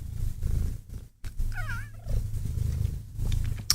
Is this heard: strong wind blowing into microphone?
no